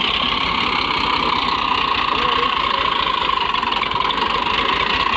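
A tractor engine in a Pakistani village runs steadily while the tractor is driven out, a loud continuous mechanical drone with a rough, rapid knocking pulse throughout.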